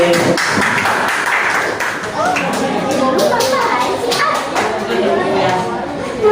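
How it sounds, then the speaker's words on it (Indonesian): Classmates give a round of hand clapping, a steady patter of many hands that runs through the clip under children's chatter and voices. "tepuk tangan untuk teman-teman kita semua"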